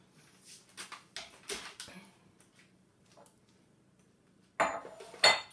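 Kitchen utensils cleared off a granite work surface, with scattered clinks and clatters of metal and crockery separated by quiet gaps, then a louder close clatter near the end.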